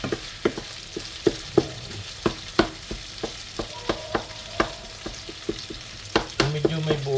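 Ground pork fries and browns in a pan while a spatula stirs and scrapes through it, giving a soft sizzle under repeated knocks and scrapes; a voice speaks briefly.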